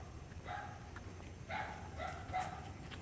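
Another dog barks in short, separated bursts several times, moderately distant, over a low steady background hum, with no talking in between.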